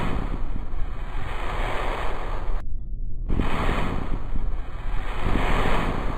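Ocean waves in Kerbal Space Program, a steady loud wash of surf and wind noise that drops out briefly in the middle before the rushing water resumes.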